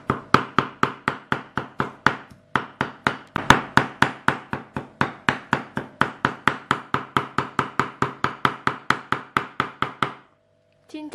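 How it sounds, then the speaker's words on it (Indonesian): Chicken is chopped finely with a knife on a board for dim sum, or siomay. Rapid, regular knocking chops come close and loud for about ten seconds, with a brief pause partway through and a stop near the end. "Kayak gitu ya, kita cincang aja sampai halus."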